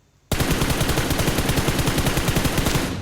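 An automatic rifle in PUBG Mobile fires on full auto: after a moment of quiet, a loud, unbroken stream of rapid, evenly spaced shots runs to the end.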